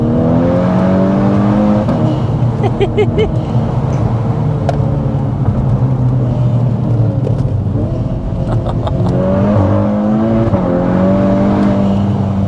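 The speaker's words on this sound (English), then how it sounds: "The exhaust just completely transforms. Yeah, when it's wide open throttle." A loud Volkswagen Scirocco R with Stage 2+ tuning roars at wide open throttle, revs climbing and dropping through gear changes, with crackling exhaust pops, close and continuous.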